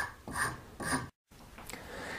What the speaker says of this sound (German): Und auch hier werden ebenfalls diese kleinen Rillen reingesägt.